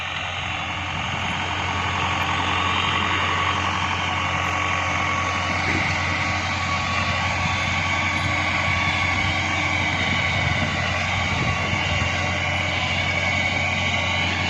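A tractor pulling a Başak 2073 seed drill sowing corn drones steadily at close range, a loud continuous mechanical rumble with a faint whining hum and rattling from the towed drill.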